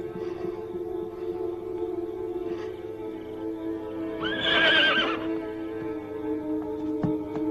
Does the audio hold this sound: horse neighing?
yes